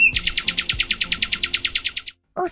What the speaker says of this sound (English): The next time you hear a bird singing